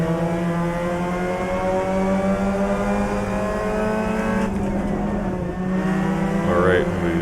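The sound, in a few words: race cars spinning tires at the start in the video game Assetto Corsa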